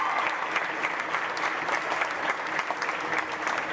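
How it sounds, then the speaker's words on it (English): A crowd gives a steady round of applause at a county supreme showmanship event to recognize a young showman, dense clapping that stays even and moderately loud from start to finish. "Give him the biggest round of applause you can."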